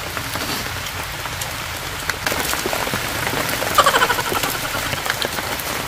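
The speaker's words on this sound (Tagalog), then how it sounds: "Umuulan na nga." Steady rain falls on surfaces during an outdoor solo picnic, a constant close patter with a few louder drops, and no talking.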